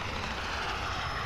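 A VTOL aircraft in the Modern Warfare video game gives off a constant, dense engine roar that fills the short moment without any break.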